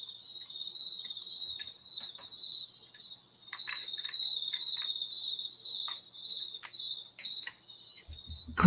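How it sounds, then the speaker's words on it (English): Crickets chirp in a steady, high, continuous trill, with scattered faint clicks and taps on top, fairly quiet and without any voices. "Crickets at night? What's with the sound?"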